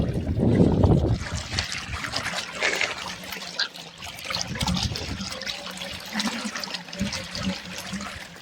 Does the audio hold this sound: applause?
no